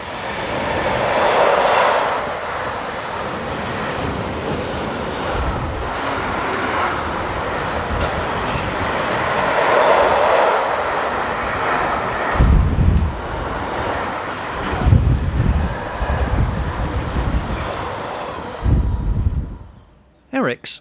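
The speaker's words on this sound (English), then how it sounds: "482021 was hired out to EGP and heads south with train 43017 from Hamburg to Gallarate in Italy" Freight train 43017 hauled by locomotive 482021 on the Northeim–Hannover main line in Germany rolls past in a long, loud, sustained roar with wind buffeting the microphone, then cuts off abruptly near the end.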